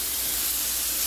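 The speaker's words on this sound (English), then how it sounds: "Searing it. We call it searing." Meat sears in an Instant Pot with a steady, close sizzling hiss that holds evenly through the short moment, with no voices.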